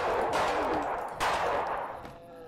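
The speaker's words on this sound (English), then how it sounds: "I'm gonna pump his head full of bullets." Gunfire in the video game Feed Me Billy: two loud, sharp shots about a second apart, each with a broad noisy burst that decays quickly.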